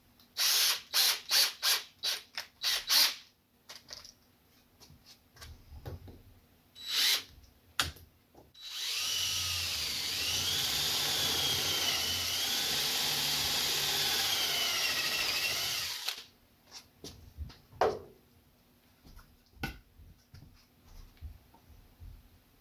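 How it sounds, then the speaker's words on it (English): A power drill bores a test hole in wood during a teapot lamp build, one sustained high whining run of about seven seconds, framed by clicks and handling of the bit before and after. "I'm going to drill a test hole in some wood and we'll see if that fits."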